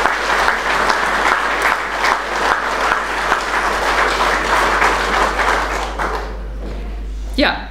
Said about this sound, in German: ich bitte um einen extra Applaus.